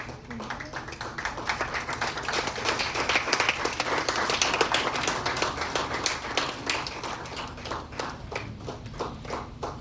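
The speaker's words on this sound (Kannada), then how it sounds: "ಜೋರಾದ ಚಪ್ಪಾಳೆ ಬರಬೇಕು" Loud, sustained applause from a crowd at a lamp-lighting inauguration ceremony for a community service association's anniversary, dense clapping running steadily throughout with voices mixed in underneath.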